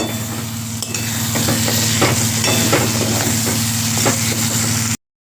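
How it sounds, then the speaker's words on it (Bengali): Garam masala is stirred into hot frying oil, giving a loud, continuous sizzle with a spatula scraping and knocking against the pan, close up, without talk. "গরম মশলা দিয়ে আমি ভালো করে নাড়িয়ে নেব"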